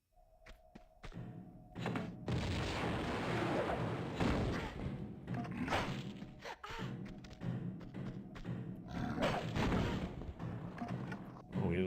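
Grenade blasts and heavy thuds in Tomb Raider Remastered II, a dense run of booming impacts with low rumble throughout, loud and close, with game music and effects layered in.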